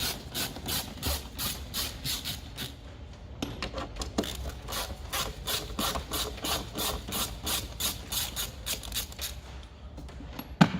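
Ratcheting wrench undoing the two 10mm bolts at the centre of a Renault Clio 3 front bumper, a rapid steady run of close clicking strokes with a brief pause partway, no talk.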